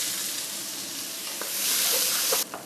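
Chopped onions hit leftover meatball fat and oil in a pan, loud close-up steady sizzling and frying hiss with brief stirring clatter near the end.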